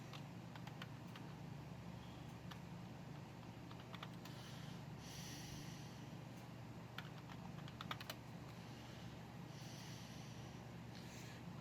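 Rapid irregular clicks of typing on a computer keyboard, picked out with one hand at an IBM 8590 PC under repair, over a steady machine hum with no voices.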